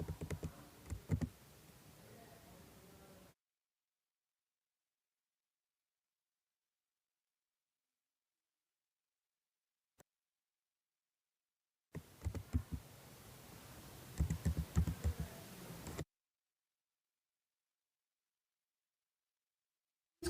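PAN and GST numbers being typed on a computer keyboard into Tally Prime accounting software, appearing as two short bursts of quick, close key clicks separated by long silence, with no speech.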